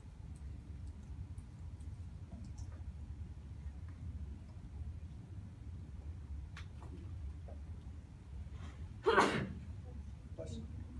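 A single sneeze bursts out partway through a lecture room recording, sharp and fairly near, standing out above a steady low room hum and faint background noise.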